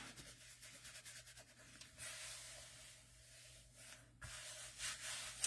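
Paper being rubbed by hand to smooth it flat and make it stick while crafting a journal; soft, close, uneven rubbing and brushing strokes, quiet and alone.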